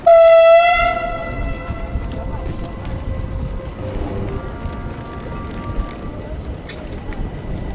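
Train at a railway station near Hallstatt, Austria, opening with a short loud horn blast that fades into a rumbling mix of station and crowd noise, with people talking throughout.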